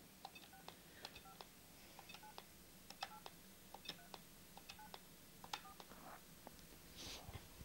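A mobile phone number is dialed for a Christmas prize-draw call in Spain, giving a rapid, evenly spaced string of short keypad beeps that are faint but distinct. Steady background hiss underlies the tones and no one speaks.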